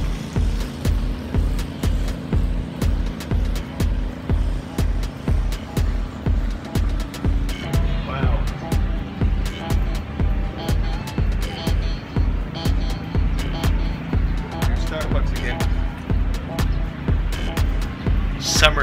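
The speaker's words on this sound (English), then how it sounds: "Sorry about the noise in the background. They're cutting the grass." Grass-cutting machinery working outdoors at an outlet park by the sea, a steady pulsing engine drone with regular rhythmic throbs running throughout, fairly loud, with a person talking over it at times.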